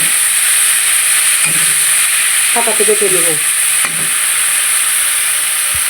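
Fish mash with turmeric frying in a pan, a steady close sizzle with brief stirring scrapes partway through.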